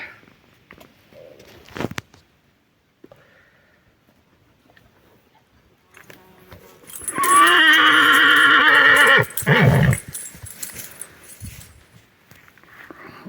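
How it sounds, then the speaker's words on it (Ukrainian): A mare whinnies loudly and close by for a couple of seconds, with a snort after it and quiet rustling and footsteps around it. "Кобила йде."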